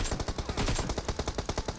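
Rapid bursts of automatic gunfire crackle loud and close in a battle royale video game, shots following each other in a fast, uneven rhythm.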